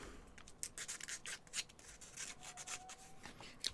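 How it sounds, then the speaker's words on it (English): Quiet, repeated scratchy rubbing strokes of sandpaper against small wooden pieces, steady back-and-forth rasping with a faint tone near the end. "A little bit of sanding on those."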